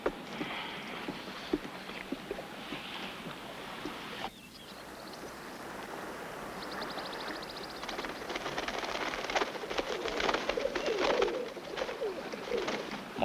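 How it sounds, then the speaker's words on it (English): Pigeons coo softly in Indiana, a series of low, repeated calls set against a faint, steady outdoor patter that grows a little busier toward the end. "More pigeons in Indiana than there are people."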